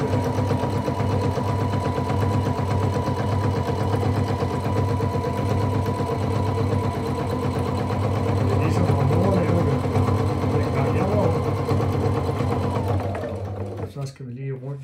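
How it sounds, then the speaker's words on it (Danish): A sewing machine runs steadily, stitching upholstery for chairs from a boat; a loud, close, rapid mechanical whirr and clatter continues for about thirteen seconds before slowing and stopping. "Så nu skal jeg til at sidde i symaskinen"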